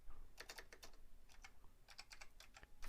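LaTeX is typed on a computer keyboard in short, quick clusters of key clicks separated by brief pauses, quiet and close, with no talking.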